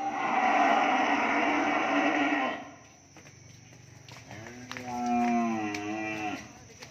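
At a cattle farm, a loud moo fills the first seconds, then a second long, wavering moo follows after a short quiet gap.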